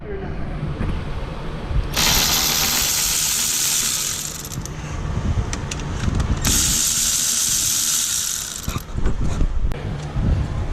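Hand tool working 14 mm brake caliper bolts loose on a 1998 Subaru Forester's front brake, with two long bursts of bright metallic ratcheting clicks separated by quieter low rumbling and scattered knocks, close and loud.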